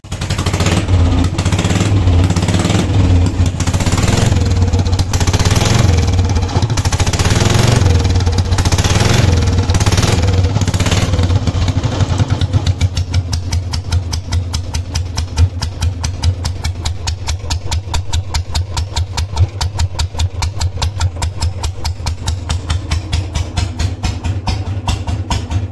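Old Royal Enfield Bullet motorcycle running without a silencer, a loud, harsh, rapid thumping exhaust close by, roaring higher at first and then settling into a steady idle-like chug.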